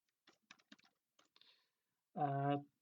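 Code being typed on a computer keyboard for a Unity game script: a run of light, irregular key clicks, close and fairly quiet, followed by a short burst of a voice near the end.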